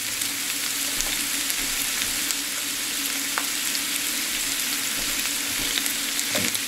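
Onions and squash sizzle steadily in a hot pan, a dense unbroken frying hiss with occasional faint clicks of stirring, close up and without speech.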